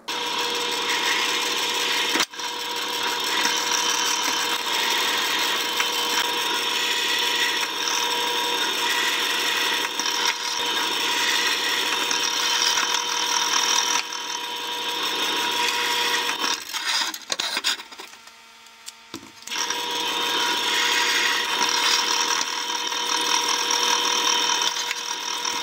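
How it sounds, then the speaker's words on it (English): Power drill driving number 10 three-quarter-inch screws into metal tabs for a metal and wood fold-down wall desk, loud steady whirring runs with a short pause near the end, then driving resumes. "So let's get to drilling."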